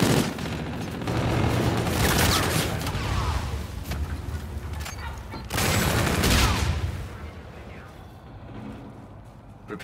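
Dense, continuous gunfire in a Call of Duty: Infinite Warfare hardpoint match on PS4, with rapid overlapping bursts and booming shots that surge loudly twice and then ease off, alongside brief game voice callouts.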